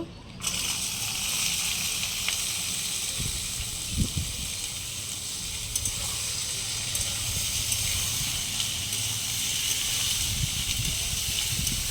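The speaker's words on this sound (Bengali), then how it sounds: "বন্ধুরা এবার আমি আলুটা তেলের মধ্যে দিয়ে দেব।" Potatoes for singara tipped into hot oil over an outdoor clay stove on a windy day, a sudden start into steady hissing sizzle with occasional splashes and crackles.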